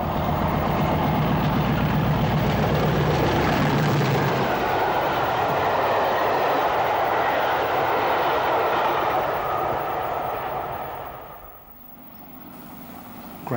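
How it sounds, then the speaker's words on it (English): Diesel locomotive 5042 heading the Penzance–Brighton train past Burngullow signal box, a loud, sustained engine roar and rolling rumble that gradually fades and drops away near the end, with no voices. "5042 powers past Burngullow signal box with the Penzance Brighton on the 26th of April 1986"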